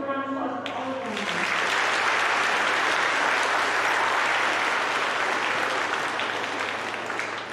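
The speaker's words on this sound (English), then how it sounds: "Let's give a round of applause for all of them." An audience at a middle school awards ceremony breaks into sustained applause right after a brief voice, the clapping loud, dense and even for several seconds.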